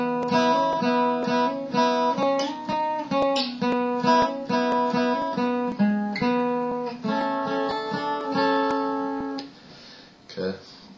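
Acoustic guitar strumming the chords of a song in a steady rhythmic pattern of down and up strokes with muted percussive slaps, close and clear, trailing off into a few quieter touches at the end.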